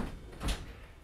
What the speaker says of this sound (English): I got to open this door.